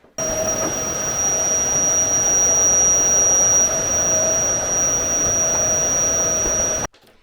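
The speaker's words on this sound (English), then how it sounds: "So let's get hoovering." A household vacuum cleaner runs continuously at close range during after-work cleaning, a loud steady whining drone with a high tonal whistle, switching on just after the start and cutting off near the end.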